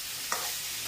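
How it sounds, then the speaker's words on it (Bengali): Mixed vegetables, including pumpkin and potato, stir-fry in a pan with a soft, even sizzle, punctuated by a couple of light scraping stirs in under a second. "ভাজা ভাজা করে"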